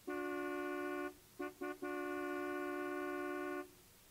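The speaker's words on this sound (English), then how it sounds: "Mr. Moore was honking." A car horn sounds close and loud: one held honk, two quick short toots, then a longer sustained blast before it stops.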